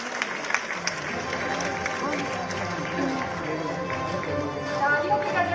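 An audience at an award ceremony honouring women gives sustained applause, a dense wash of clapping from a crowd that runs the whole time, with a voice speaking over it.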